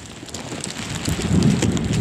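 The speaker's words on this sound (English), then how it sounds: "This is really bad because there's sleet and very heavy snow coming" Blizzard conditions during Winter Storm Stella in the Bronx, New York, with sleet and heavy snow in strong winds: a steady loud hiss and rush of wind-driven precipitation that swells slightly toward the end.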